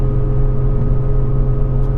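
Car exhaust droning steadily at constant revs, loud and close, with a low, even engine hum and no speech.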